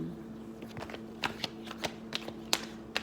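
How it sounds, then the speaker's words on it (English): A deck of tarot cards is shuffled by hand, giving soft riffling ruffles and irregular crisp slaps and taps close by, over a faint steady hum. "when I was shuffling and meditating on these cards"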